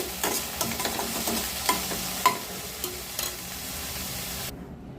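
Sambar with pumpkin, drumstick and broad beans bubbles and simmers in a pot, with a steady low sizzle and occasional clinks of a spoon against metal, no voices.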